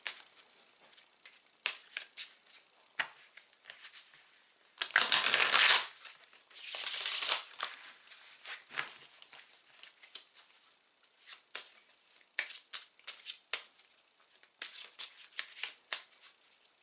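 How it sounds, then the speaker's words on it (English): A tarot card deck is shuffled close up, with soft riffling flicks and taps scattered irregularly throughout and two louder bursts of bridging riffles near the middle, all fairly quiet. "Oolahna, when you feel the deck is shuffled properly and we're ready to go"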